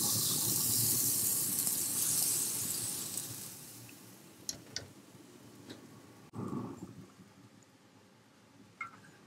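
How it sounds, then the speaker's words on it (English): Steam hisses loudly off a hot griddle as water is squirted around Japanese souffle pancakes, a broad bright hiss that slowly fades, broken by a few small clinks and taps. "That's the steam that helps them."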